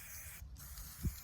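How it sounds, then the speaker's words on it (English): Thick spray paint hisses from an aerosol can in a soft, steady close spray, broken by a brief pause and ending in a low thump. "this is a really thick spray paint"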